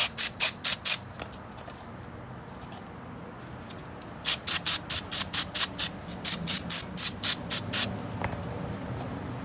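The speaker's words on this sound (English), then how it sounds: "Just spraying it with brake cleaner." Repeated short bursts of brake cleaner hissing from a spray can in quick rhythmic clusters, with brief pauses between groups, close by over faint background noise, while cleaning a 2012 Hyundai Elantra intake VVT solenoid.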